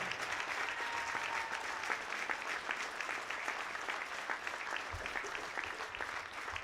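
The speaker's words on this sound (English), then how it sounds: "Please join me in one more round of applause for the men and women of the United States military." Crowd in a gym at a high school girls basketball game applauds for the military, a dense, continuous burst of clapping from many hands with a few scattered cheers, steady from start to finish.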